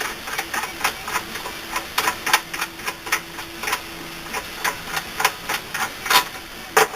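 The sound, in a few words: pulling a bolt out of a South Bend lathe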